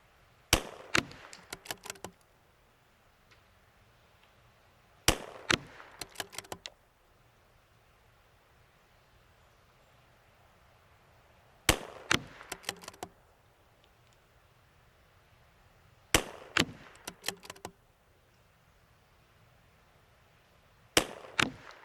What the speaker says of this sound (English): All the bullets went down range, they all hit the target.